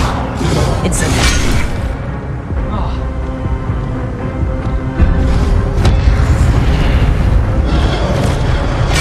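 A loud, booming Incendio fire spell in Hogwarts Legacy, a dense roaring blast with whooshing bursts, layered over constant game noise and effects.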